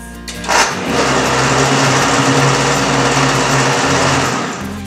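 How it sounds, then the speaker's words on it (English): Blender whirring almond milk with sweetener for several seconds, a loud continuous motor roar close by that eases off toward the end. "So just blend for about 10 to 15 seconds."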